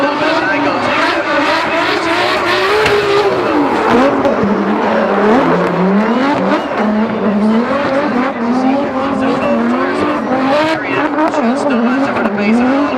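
Drift cars competing at Rockingham in the 2018 British Drift Championship: loud, continuous revving engines and squealing tires, with a commentator talking over them throughout.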